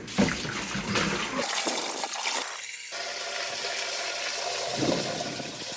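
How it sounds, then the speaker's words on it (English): Water pours and splashes out of a Spider Farmer deep water culture hydroponic module in a gushing stream, then trickles and gurgles with a low hollow tone, close by. "Dump the water."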